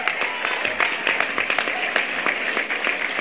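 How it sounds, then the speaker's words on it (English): Audience applause following a speech at the Democratic National Convention, steady dense clapping throughout at moderate loudness with no speech over it. "give Barbara and Mike a big round of applause"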